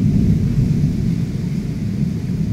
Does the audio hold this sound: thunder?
yes